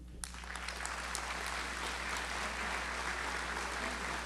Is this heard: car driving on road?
no